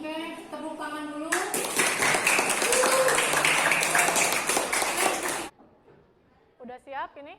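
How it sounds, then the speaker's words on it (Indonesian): Classroom audience applause at a teacher performance assessment, a burst of many hands clapping close by for about four seconds, starting and ending with voices speaking. "tepuk tangan dulu"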